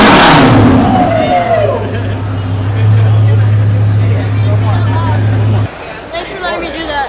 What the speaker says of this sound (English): You want to rev it up? Give it a little rev.